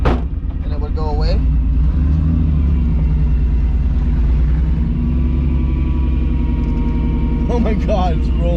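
A Toyota MR2 Spyder with a swapped-in 1MZ V6 and a new exhaust idles roughly while misfiring, a loud uneven low rumble held steady, with people talking briefly near the start and end.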